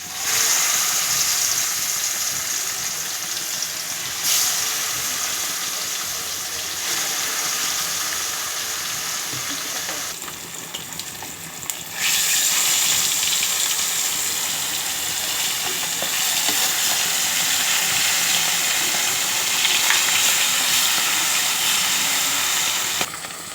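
Pomfret fish rubbed with salt and turmeric sizzles loudly in hot oil in a wok. The frying crackles and spits continuously, with a brief lull before it surges back up, and no talking over it.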